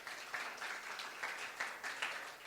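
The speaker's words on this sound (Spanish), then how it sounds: "Denle un aplauso, por favor." A congregation at a church service applauds, a faint, distant patter of clapping with several soft swells over a couple of seconds.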